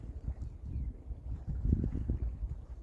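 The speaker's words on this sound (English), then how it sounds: "looks like the wind's swirling up in here a little bit now" Gusty wind buffets the microphone in uneven low rumbling bursts, close and moderately loud, with no other clear sounds.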